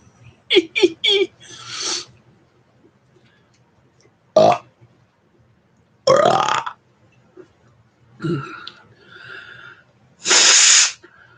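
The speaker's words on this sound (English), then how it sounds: "a loud burp can be heard easy" Loud burps muffled by a fist come as several separate bursts. A quick stuttering run opens the sequence, followed by longer raspy, hissing belches spread apart with quiet gaps between them.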